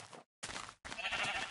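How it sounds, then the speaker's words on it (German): Sheep in Minecraft give short bleats, three quick clipped calls split by brief silences, fairly quiet and alone. "Hier sind noch mal ein paar Schafe."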